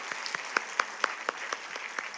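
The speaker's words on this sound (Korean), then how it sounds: "우리 박수로 청소년부 우리 친구들 격려하고 축복하겠습니다." A church congregation claps together in a steady rhythmic beat, each clap crisp and even, moderately quiet and heard alone without talk.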